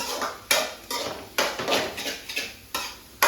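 Spoon or spatula scraping and clattering against a pan while egg rice is mixed with vegetables, in a steady run of distinct strokes at close range, with no talk.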